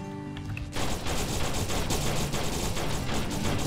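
Weapons fire continuously in the vehicle-combat game Terra Tech, a dense, loud barrage of rapid shots that starts abruptly and holds steady throughout.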